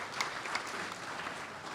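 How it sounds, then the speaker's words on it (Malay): Audience at a college opening ceremony in Malaysia applauding a guest of honour, a steady, moderately distant round of many people clapping, with a few sharper claps standing out near the start. "Tepukan untuk beliau."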